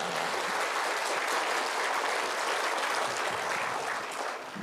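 An audience at a Buddhist gathering applauds the monks, a dense, sustained wash of clapping from many hands that fades slightly at the end.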